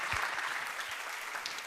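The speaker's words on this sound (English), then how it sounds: "Let's give them a warm round of applause." Audience at the Nordic Fe:male Invest Summit 2022 gives a warm round of applause, a dense steady wash of many hands clapping at moderate distance, filling the room without voices.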